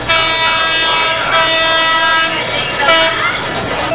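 A Philippine National Railways passenger train rumbles loudly past at close range with a steady, dense roar and a brief horn-like tone partway through.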